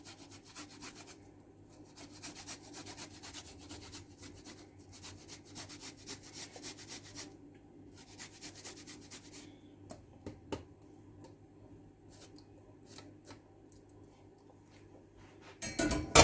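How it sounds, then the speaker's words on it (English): Ginger rasps against a grater in short repeated scraping strokes, fairly quiet and close, with pauses between bursts and a sharp clatter at the very end, during preparation of a smoky roast Christmas turkey. "now I'm gonna grate my ginger in there"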